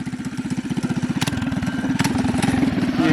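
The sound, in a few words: doodle bug minibike engine being throttled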